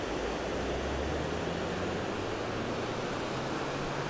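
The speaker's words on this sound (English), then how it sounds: "Some rapids." Rapids on a Japanese river pour over giant boulders, making a steady, broad rushing roar that fills the whole clip evenly and stays alone without voices.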